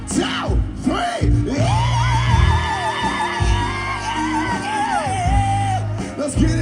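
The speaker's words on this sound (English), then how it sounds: "On the count of three, just scream." A variety show crowd in Monte Rio screams and whoops together on cue, a loud, sustained mass of yelling voices with a few bangs and shouts mixed in.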